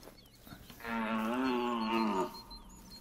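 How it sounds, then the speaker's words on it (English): A red deer call in theHunter: Call of the Wild video game, a single loud, drawn-out moaning bellow with a rich harmonic tone lasting about a second and a half, against quiet outdoor ambience. "Let's give another deer call."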